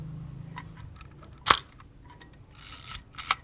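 Zenit EM film camera shutter firing at 1/500 s: one sharp, loud mechanical click near the middle, then a brief whirring rustle and a second fainter click, close up with no talk.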